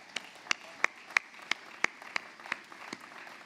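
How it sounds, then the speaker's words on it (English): Sparse applause from an audience at a school sports awards night honouring athletes: about nine separate, evenly spaced sharp claps, quiet and somewhat distant, with no voices over them. "Can we have a round of applause for all of them?"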